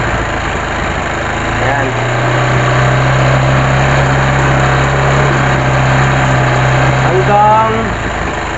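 A car engine idles at roughly 1.5 thousand RPM with a steady low hum close by. Someone talks over it throughout.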